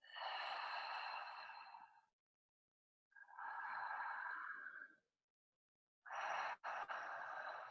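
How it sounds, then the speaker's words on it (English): Deep, slow breaths drawn in through the mouth during a breathwork session, three long airy inhales or exhales of about two seconds each with short silent gaps between, close and fairly loud with no talking. "In through the mouth. Good. Connecting each breath to the next breath."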